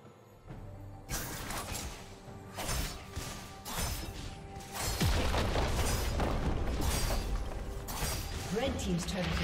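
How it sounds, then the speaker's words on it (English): A turret being destroyed in League of Legends, booming crashes and shattering impacts layered over busy game effects, growing louder and more continuous as the fight goes on, with voices present. "Red team's turret has been destroyed."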